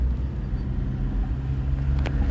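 A 1984 Dodge D50 diesel turbo pickup driving along a road, heard from inside as a steady, close low rumble with no talking.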